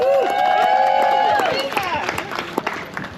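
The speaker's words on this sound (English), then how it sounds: "Let's give Julissa a round of applause." Crowd at a rally applauds and cheers a speaker being introduced, with whistles and shouts over scattered clapping that thins out toward the end, with voices in the mix.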